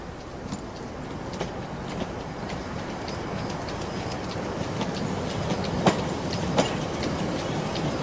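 A second train approaching on a railway track at an automatic signal, a steady rumbling clatter of wheels on rails with occasional metallic clicks and squeaks, moderately distant and alone without speech.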